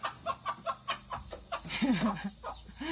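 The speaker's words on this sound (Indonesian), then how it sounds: "Ada ayam mereka." Chickens clucking in a rural village, a steady run of short rhythmic clucks close by followed by a louder rising squawk, with faint background activity.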